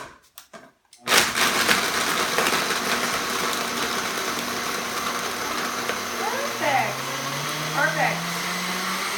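A blender roars loudly, crushing ice for a dairy-free chocolate milkshake after a brief quiet start, the motor pitch shifting as the ice breaks down; a short spoken word comes at the very start.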